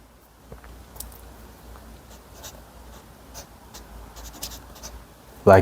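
Hand-writing Korean letters, a pen scratching and tapping in short soft strokes, faint and close against a quiet background.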